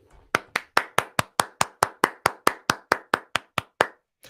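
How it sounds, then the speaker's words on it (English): A single person claps hands alone, about eighteen crisp, evenly spaced claps in a steady rhythm, close and dry with silence between each. "That's hand claps."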